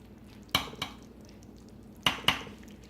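A utensil cutting into a fully baked lasagna in its dish, two pairs of sharp metallic scrapes and clinks against the pan, close and clear in a quiet room.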